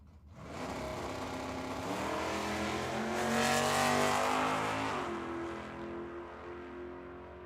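A 1969 or 1970 fastback Mustang launching down a drag strip, engine roaring and climbing through gears with rising pitch, swelling loudest mid-run before fading as it pulls away.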